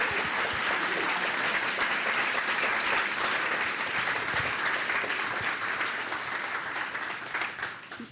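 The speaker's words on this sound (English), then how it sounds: "Please give them a huge round of applause." Applause fills a Seattle town hall meeting on the future of light rail, a dense, steady wash of many hands that holds firm for several seconds and then tapers off at the close.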